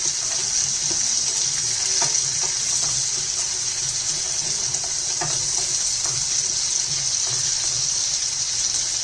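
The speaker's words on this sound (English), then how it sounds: "I'm going to drop that very quickly. We're going to cook this in high heat." Cauliflower, beans and potatoes frying over high heat, a steady loud hiss and crackle that holds evenly for the whole stretch with light stirring knocks and no voices.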